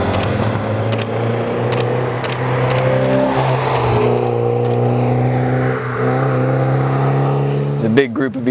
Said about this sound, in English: big group of VW Beetles just rolled in from out of nowhere.